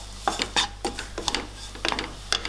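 Vegetables and masala stirred in a pan with a spoon, several distinct close clinks and scrapes in irregular bursts over a low steady hum.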